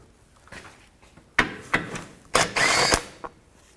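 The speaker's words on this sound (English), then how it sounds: "you're going to take these bolts out, use a 12mm socket" A 12mm socket on a ratchet or power tool backs bolts out of a panel during radiator replacement on a 2011–15 Kia Sorento, with several short, sharp mechanical bursts and one longer whirring run, close up.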